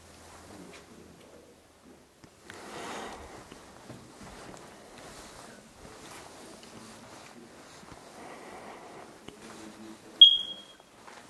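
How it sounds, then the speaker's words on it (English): A dying smoke detector in an abandoned mansion gives a single sharp, high chirp near the end, rising above quiet footsteps and room noise. "the fire alarm or smoke detector is dying in here"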